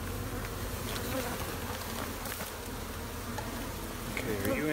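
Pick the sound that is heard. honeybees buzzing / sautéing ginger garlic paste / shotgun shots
honeybees buzzing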